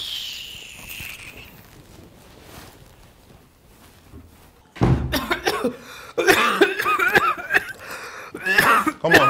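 Harsh coughing breaks out after a quiet stretch, several loud, rough coughs in bursts at close range, with laughter-like vocal sounds among them.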